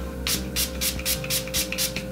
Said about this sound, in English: I'm also gonna spray my Hangover RX primer as well.